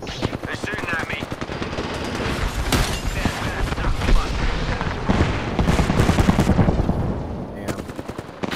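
Sustained rapid gunfire in an Apex Legends arena match, loud rattling bursts and booms filling nearly the whole stretch, with a player talking over the shooting.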